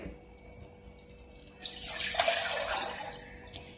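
About two cups of water pour steadily from a bowl into a mixer jar after a quiet start, a loud gushing splash that continues for a couple of seconds.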